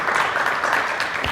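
Brief burst of hand clapping from an audience at a panel session, a steady wash of applause lasting just over a second.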